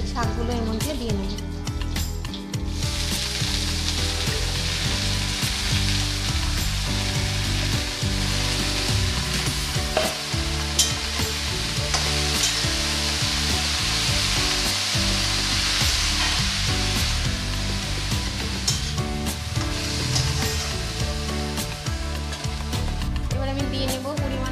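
Radish greens tossed into a pan of frying garlic and green chili, a loud steady sizzle with stirring and scraping that runs throughout, with music playing over it.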